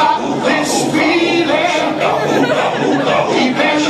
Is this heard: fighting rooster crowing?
no